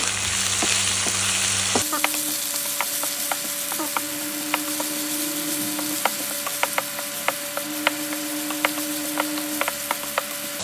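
Chopped chili and garlic frying in hot oil crackle loudly in a pan, with a dense sizzle and frequent sharp spatter pops while they are stirred continuously after a sudden start.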